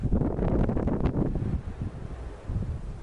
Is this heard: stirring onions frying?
no